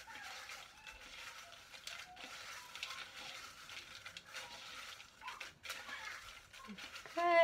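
Paper entry slips for a prize draw rustle and shuffle as a hand mixes them, a faint, continuous scratchy crinkling with irregular bursts and one louder rustle at the end.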